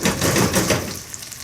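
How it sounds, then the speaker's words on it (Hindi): Shaljam chicken masala fries in a pan, a dense crackling sizzle with stirring scrapes that stays fairly loud, then thins out toward the end. No one speaks. "इसको 2 से 3 मिनट तक हम अच्छी तरह फ्राई करेंगे"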